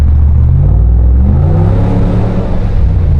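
A 5.7-litre Hemi V8 in a blacked-out vehicle revs at close range, its deep, loud rumble swelling and holding steady for a few seconds with no talk over it.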